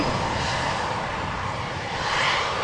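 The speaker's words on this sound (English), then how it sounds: "No, it is taxiing to the next exit and is probably returning to the platform area." A KLM Embraer E190 jet taxis at Amsterdam Schiphol after an aborted takeoff, its engines giving a steady, moderately distant whoosh and roar throughout.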